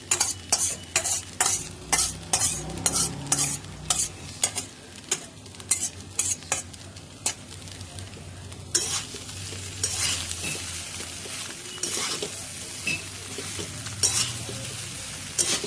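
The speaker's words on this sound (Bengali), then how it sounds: "ভালো করে উপর নিচ করে নেড়ে দিতে হবে।" A spatula scrapes and stirs soya chunks frying in a wok for soya pulao, in rhythmic strokes over a steady sizzle, close and clear, the strokes coming fast at first and then more spread out.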